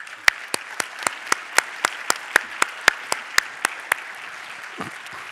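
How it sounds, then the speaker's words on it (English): Applause for a conference panel comes from a small audience, with one dominant nearby pair of hands clapping in an even, regular beat over a thin background of other claps before tapering off. "I think we can all give a round of applause for this fantastic panel."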